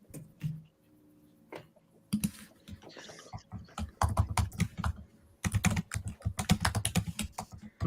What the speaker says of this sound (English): Fast and Furious typing happening there